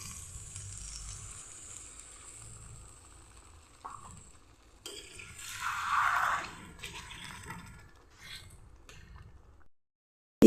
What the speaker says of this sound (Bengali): এখন আমি মিক্সি জারটা ধুয়ে একটু জল দিয়ে দিচ্ছি